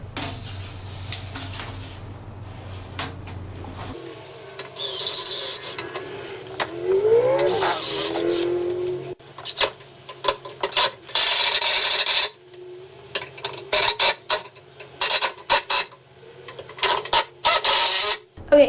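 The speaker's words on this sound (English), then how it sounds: "just countersink some screws right through" Drill countersinking screws through a wooden desk frame, with repeated bursts of whirring and grinding that start and stop in short runs, close and fairly loud, with no talking.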